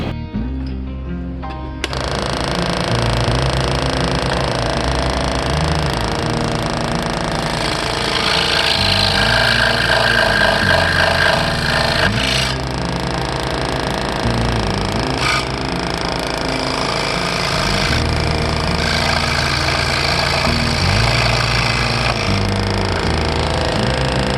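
A scroll saw cuts a notch into a wooden crossbow body, starting after a brief pause and then running as a loud, steady, rapid chattering buzz up close for the rest of the stretch, with no talking.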